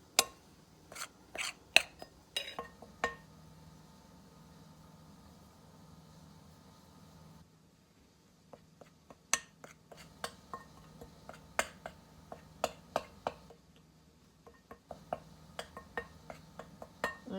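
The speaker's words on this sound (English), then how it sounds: "You want to get all that lard worked in into little pea-sized shapes into that flour the best you can." Lard being worked into flour in a bowl for buttermilk biscuits, heard as a quiet kitchen scene with irregular bursts of light clinks and ticks from a utensil, separated by short pauses.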